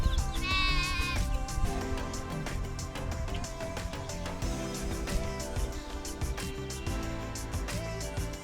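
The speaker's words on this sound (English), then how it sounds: "all these beautiful, beautiful woolly sheep." Woolly sheep and growing lambs in a farm pasture, with a brief bleat near the start that is soon buried under steady, loud background music.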